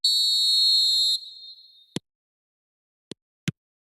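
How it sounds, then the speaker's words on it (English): A single long, shrill referee whistle blast in the eFootball game opens loudly and fades out, followed by a few short, faint thumps in near silence. "There's the whistle, and here we go."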